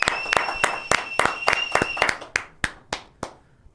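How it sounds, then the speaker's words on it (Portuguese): A small group clapping in praise of the singers Henrique e Juliano, about a dozen crisp claps in a quick rhythm that slows and thins out into a few last isolated claps, close and clear with no talk. "Palmas pra Henrique e Juliano, galera."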